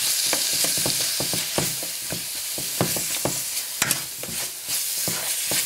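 Potatoes and spice powders are stirred in a dry frying pan, with repeated scraping strokes and short clacks of the utensil over a soft, steady sizzle.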